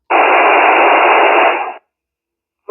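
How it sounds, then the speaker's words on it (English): A Retevis MB2 CB radio transmitting on FM produces a loud, steady burst of hiss and static lasting under two seconds, then cuts off abruptly into silence before a brief second burst starts. "let's hear a test of the Retevis MB2 CB on FM"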